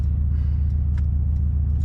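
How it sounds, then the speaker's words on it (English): A Mercedes-AMG twin-turbo V8 in race mode gives a steady, deep, close engine rumble from inside the car, with a couple of faint clicks above it. "It just revs a little higher"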